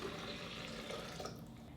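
Water pours steadily into a Vitamix 5200 blender container, a continuous, fairly quiet splashing stream lasting the whole moment with no talk.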